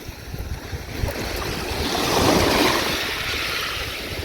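Ocean waves washing onto a beach while searching for seashells, a steady broadband surf roar that swells around the middle, with wind buffeting the microphone.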